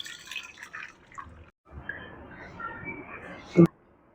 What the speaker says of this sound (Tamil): இப்போ வேக வச்சு எடுத்தாச்சு. இப்போ இதை வடிகட்டிக்கலாம்.